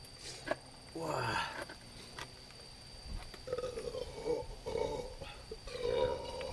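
A man lets out a short, low burp after drinking Diet Coke, with quieter throaty sounds and mumbling talk around it.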